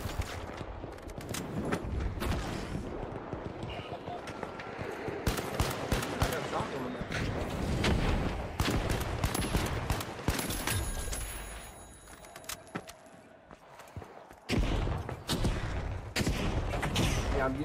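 Rapid gunfire from the first-person shooter The Finals, with Pike-556 and LH1 rifles, cracks out in quick bursts and single shots amid game effects, while players talk over the action.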